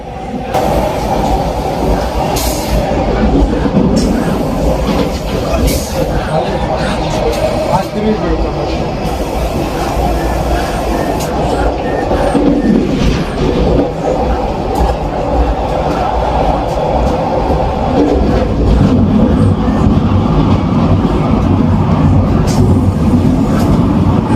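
The Vande Bharat Express runs on the rails between Jammu and Srinagar near the Chenab bridge, a loud continuous rolling rumble with rhythmic clatter heard from inside, with someone talking over it.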